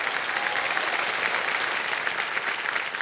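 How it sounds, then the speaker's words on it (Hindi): Studio audience applause on the TV quiz show Kaun Banega Crorepati: steady, dense clapping from a large crowd, even in loudness and unbroken throughout, with no voices over it. "एक बार ताली बज जाए"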